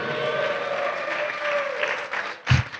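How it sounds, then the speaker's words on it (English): A church congregation claps continuously, a dense wash of applause at moderate volume, with a thump near the end. "give the Lord a clap of praise"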